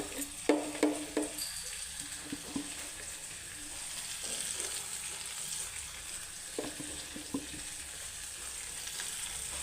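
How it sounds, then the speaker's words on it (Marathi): Chutney roasts in oil in a pan, a soft continuous sizzle with scattered scraping clicks of stirring, a few sharper taps early on, fairly quiet and without talk. "चटणी चांगली भाजून घेऊया तेलामध्ये"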